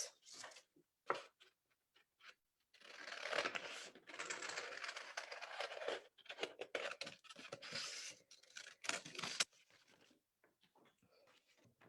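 Scissors snipping paper around a drawn door shape for a pop-up greeting card craft; irregular close crisp cuts and rustling come in bursts with short pauses, no voices over them.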